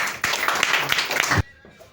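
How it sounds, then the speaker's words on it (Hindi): An audience claps together at a gathering, a dense, lively burst of hands that starts sharply, runs about a second and a half, then cuts off, with a faint voice beneath. "चलिए ताली बजा दीजिए"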